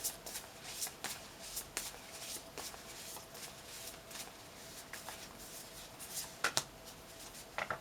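Oracle cards being shuffled by hand for a tarot reading, a steady run of soft papery riffles and flutters with sharper snaps of cards near the end, close and quiet with no talking.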